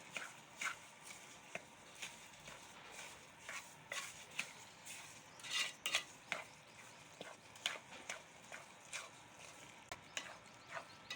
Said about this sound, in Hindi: अच्छी तरह से मिक्स करते हैं।